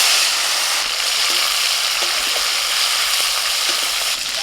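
Chopped tomato hits hot oil already tempered with bay leaf and whole cumin, giving a loud, steady sizzle with light stirring clicks throughout, close and without talk.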